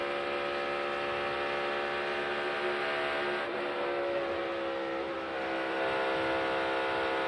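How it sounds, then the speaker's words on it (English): A NASCAR Cup Series race car engine holds a steady, high-pitched drone at full throttle, loud and continuous with a dense harmonic whine throughout. "you can hear Kurt Busch's throttle there. A lot of wide open throttle around this track"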